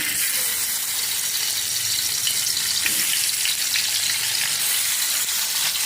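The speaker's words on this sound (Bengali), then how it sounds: "আমি এখন তেলাপিয়া মাছ ভাজবো।" Tilapia fish fries in hot oil with a dense, even sizzle and spatter, close and steady throughout with no talk.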